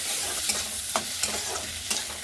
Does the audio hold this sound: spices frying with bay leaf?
yes